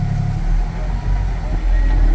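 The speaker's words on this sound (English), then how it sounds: "I'm going to push on the throttle till I feel a tug" A truck engine with an automatic transmission revs as the throttle is pressed against the brake during a brake test, a brief close low roar that swells and holds steady.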